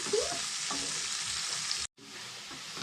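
Sliced onions deep frying in hot oil in a pan give a steady, loud sizzling hiss with light stirring clatter, briefly cut off near the end before resuming.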